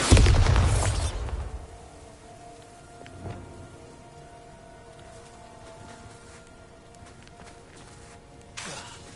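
A Bombarda blast spell in Hogwarts Legacy, a loud booming explosion at the start that fades over a couple of seconds into quieter ambience, with a smaller burst near the end.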